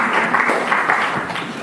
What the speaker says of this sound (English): I don't know if this applause is for the substance or for the presentation